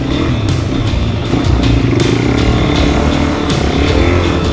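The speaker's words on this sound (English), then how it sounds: "the bike bogs down and I come to a complete standstill" A Suzuki DRZ400 dirt bike engine labors loudly on beach sand, a close, rough, continuous drone that strains and bogs down as it loses momentum.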